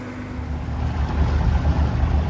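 The engine of a loaded barge pushing upriver on the River Avon gives a steady low rumble, loud and close, with a throbbing beat that firms up toward the end, heard alone without speech.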